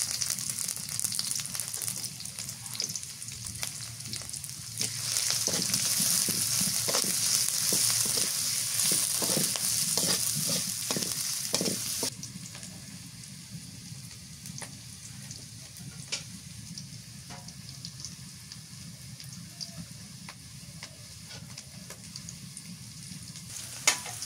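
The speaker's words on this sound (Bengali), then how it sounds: "পেঁয়াজ মরিচ ভাজা হয়ে গেছে" Chopped onion and green chilies fry in a pan, a steady close sizzle with scraping stirs, loudest in the first half before settling to a quieter crackle.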